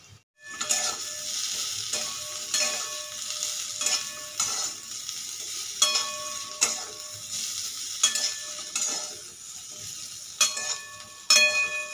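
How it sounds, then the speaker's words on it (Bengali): Steady sizzling of spices with salt, turmeric and chili powder frying in a wok for jackfruit curry, with repeated scraping and stirring strokes of a metal spatula every second or so. "মশলাটা আমার ভাজা ভাজা হয়ে গিয়েছে"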